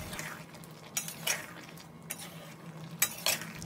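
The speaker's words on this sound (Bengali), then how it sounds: "এগুলো দেওয়ার পর একটু নাড়াচাড়া করে নেব" A spoon stirs shrimp curry in a pan after garam masala and chopped coriander go in, with soft scraping and a few sharp metallic clinks against the pot over a quiet simmering background.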